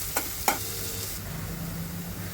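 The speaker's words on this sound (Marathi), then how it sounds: "बारीक चिरलेला कांदा, कांद्याला थोडं" Chopped onion fries toward golden brown with a steady close sizzle, and two quick scrapes of a stirring spoon come near the start.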